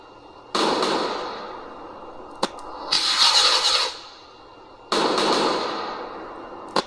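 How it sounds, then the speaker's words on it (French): Fireworks sound effect playing in a Unity project: three loud crackling bursts with sharp pops between them, each burst sustained for about a second before fading, with no voices over them. "si je reteste, les feux d'artifice devraient être désynchronisés"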